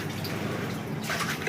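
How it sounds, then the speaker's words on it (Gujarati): Hands splash and slosh in a tub of water while white quilts are washed by hand, giving soft, close, uneven sloshing with a brief louder splash near the end and no voices. "પાણીમાં છપછપિયા કરે છે."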